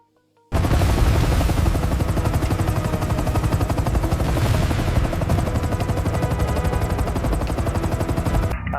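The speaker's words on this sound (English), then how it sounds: "is a modern multi-role military helicopter developed by Leonardo" Loud, continuous rotor thumping of a modern multi-role military helicopter developed by Leonardo, a rapid chopping pulse that starts abruptly and holds steady close by.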